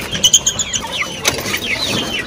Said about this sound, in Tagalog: May mga sisiw din po dito.